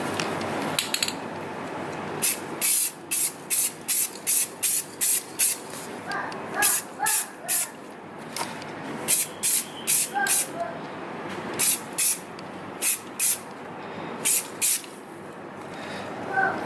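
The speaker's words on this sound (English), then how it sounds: "you want to always do really light passes with it, just so the paint really can adhere to it and really grab into the metal" Short bursts of black spray paint hiss from an aerosol can onto a metal exhaust J-pipe on a Toyota JZX100, in quick light passes repeated in irregular clusters, close and fairly loud with no talk.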